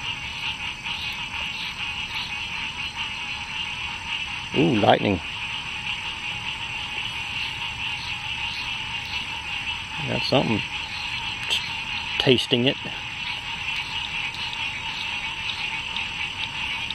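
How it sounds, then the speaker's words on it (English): Frogs croak in a steady chorus with buzzing insects at night, while someone speaks briefly in a few short bursts over the calling. "the froggies are starting to get loud"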